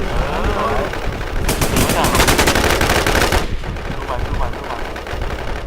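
Rapid automatic gunfire from the video game Infestation, a dense burst of shots lasting a couple of seconds amid other game sounds, with a player's voice talking over it.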